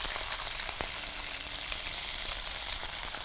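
Onion, garlic and curry leaves frying in a pan, a steady dense sizzle running throughout with faint stirring clicks, close and fairly loud with no talking.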